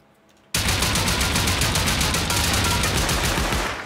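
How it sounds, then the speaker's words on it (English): A base turret in a survival video game opens up suddenly and fires a loud, rapid, unbroken automatic stream for over three seconds, close by and alone, fading slightly at the end. "Okay, I hear a turret right here."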